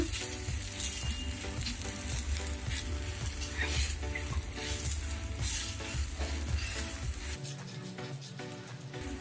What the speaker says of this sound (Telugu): పరోటా అయితే పెనం మీద వేసుకొని కాల్చుకుందాం.